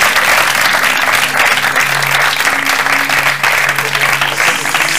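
Loud, dense applause from a live audience at an event presenting artwork made by a quantum computer, a continuous roar of many hands clapping steadily close by, with faint low tones sounding beneath it.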